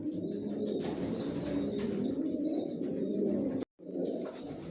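Racing pigeons of the Johnson line coo steadily inside a loft, a dense continuous murmur of soft throaty calls with occasional higher chirps, broken by a brief silent gap near the end.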